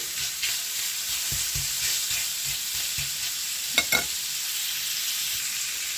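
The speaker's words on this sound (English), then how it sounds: "we're going to cook just a good little bit to get it nice and heated through" Beef smoked sausage frying in a pan with a steady, close sizzle throughout, punctuated by a few soft stirring scrapes and a brief clatter near the four-second mark.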